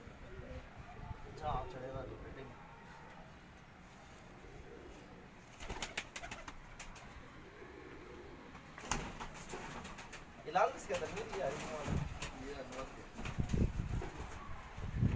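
Breeder pigeons on a Karachi house rooftop loft, soft cooing and bird sounds scattered through the clip, with bursts of wing flapping and handling noise, under someone talking close by.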